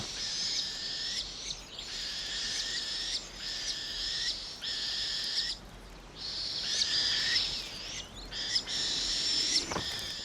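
Fieldfares call at a nest of naked chicks in springtime Norway: repeated harsh, chattering calls in short bursts, fairly close, over quiet outdoor background.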